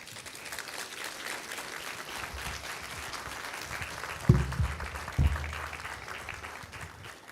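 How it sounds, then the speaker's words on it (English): A crowd at a retirement and long-service awards banquet applauds steadily, the clapping sustained and even, with a couple of sharp thumps partway through. "Another round of applause for Professor Emeritus, the Honourable Errol Miller."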